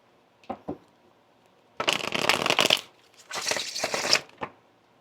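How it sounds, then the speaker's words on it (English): Tarot cards are shuffled in two quick riffling bursts, preceded by a couple of soft taps, close and crisp against near silence. "even how the cards shuffle"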